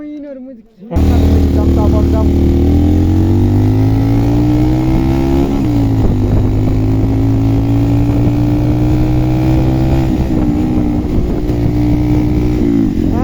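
A new motorcycle engine starts up after a short pause and then runs at a loud, steady drone close by, with small rises in pitch as the rider speeds up and voices talking over it.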